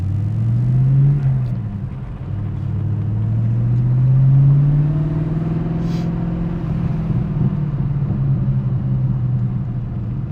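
A 1998 TVR Chimaera driven at speed on an A road, its engine a steady low rumble that swells and eases as the revs rise and fall, with tyre and wind roar underneath throughout.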